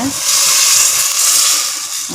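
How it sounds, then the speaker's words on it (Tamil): Hot water poured into a pan of frying chicken for soup, giving a loud, steady steamy hiss and sizzle that holds for about two seconds, with no talking. "சுடு தண்ணியை ஊற்றுறப்ப"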